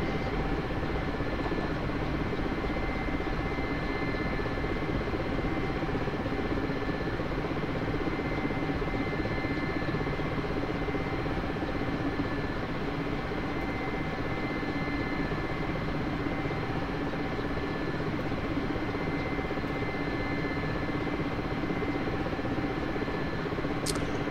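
Helicopter in DCS 2.5 doing a running takeoff, skids scraping along the ground until transitional lift: a steady, continuous rotor and turbine drone holding at an even level throughout, with no talk.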